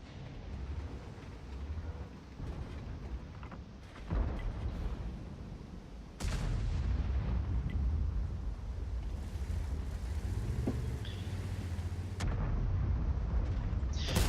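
In the World of Tanks video game, a British Super Conqueror heavy tank's main gun fires two heavy booming shots a couple of seconds apart over a constant low engine and wind rumble.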